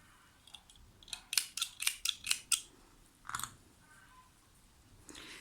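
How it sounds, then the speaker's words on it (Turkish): Scissors snip thread near a knitted baby vest in a quick run of about seven close, crisp cuts, followed by a couple of softer snips and light handling noises. "Bu ipi kesebiliriz artık."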